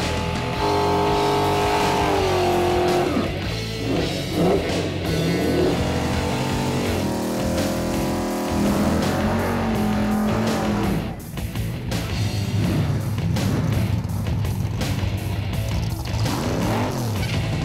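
A 1965 Ford Galaxy race car engine roars loud and continuous, its pitch rising and falling through revs and shifts, with tire squeal and other racing noise mixed in.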